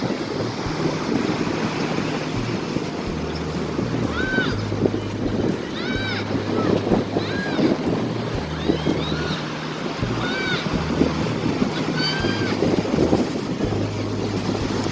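Steady wind and surf wash over Padang beach on a breezy afternoon, a constant roar with faint bird chirps and a low engine drone passing intermittently in the background.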